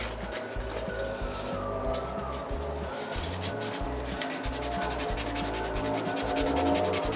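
Steady hand sanding of a small wooden wedge on a sanding block, a continuous close scratchy rubbing with repeated back-and-forth strokes and no talk.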